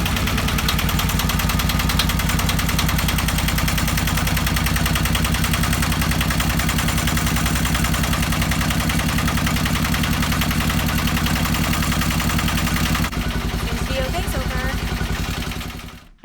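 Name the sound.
Yanmar YSM8 sailboat engine starting and running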